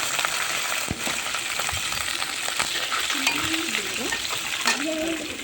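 Cumin seeds, green chili and curry leaves sizzling in hot oil as a spoon stirs the pan, a steady crackling fry close up with occasional scrapes and clinks of utensil against metal.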